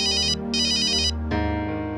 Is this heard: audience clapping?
no